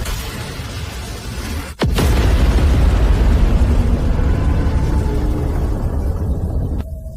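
A missile leaves its launcher with a sharp crack, then a massive roaring rumble that holds loud and steady for several seconds before cutting off abruptly.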